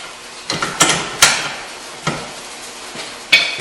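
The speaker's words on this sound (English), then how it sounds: "I'm going to tap it in lightly." Light metallic taps on a rear strut being seated on a 2008-2013 Toyota Highlander, a handful of sharp, ringing knocks spaced irregularly, close and clear with no talking.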